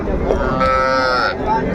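Cows with calves mooing at the Ambari cattle market in Dinajpur, a loud, close, drawn-out moo rising over the steady crowd murmur and chatter of the busy livestock market.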